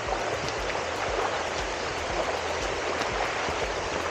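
Kelwali waterfall pouring down, a steady, loud broadband roar of falling water that fills the whole stretch without a break and without voices.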